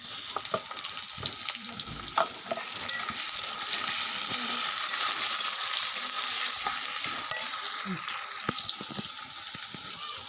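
Chopped onions hit hot oil in a frying pan and sizzle loudly, with stirring scrapes, a few clatters and a faint murmur of voices in the background.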